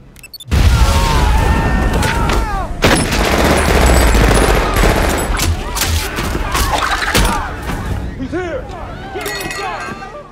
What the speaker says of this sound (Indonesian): Adam pun meledakkan bom tempel yang ia pasang sebelumnya sebagai sebuah pengalihan.